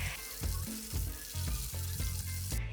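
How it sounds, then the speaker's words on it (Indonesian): Egg-coated risoles, mayo and cheese filled, fry in foaming oil, a close bubbling sizzle that comes in a run of short rhythmic bursts. "Karena tadi pakai baluran basah telur, jadi minyaknya agak berbuih gini ya guys"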